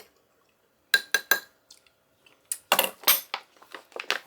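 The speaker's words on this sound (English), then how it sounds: "give that a stir" A metal spoon stirs freeze-dried tomato soup in a pot, with two bursts of bright clinks and scrapes against the metal, up close and loud, separated by a brief quiet pause.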